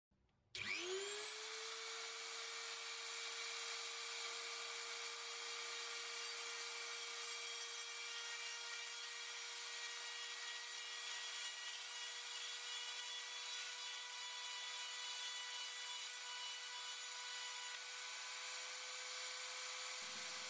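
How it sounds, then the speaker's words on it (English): A Dremel rotary tool spins up and cuts tiny plastic propellers for a micro brushless FlexRC Mini Owl drone, giving a steady high-pitched whine that holds for about twenty seconds before winding down at the end. "the idea is that we swing it around while the Dremel is moving"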